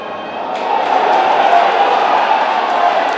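A boxing arena crowd at a live bout roars in a steady, loud swell of cheering that holds for a few seconds, with commentary voices mixed into the din.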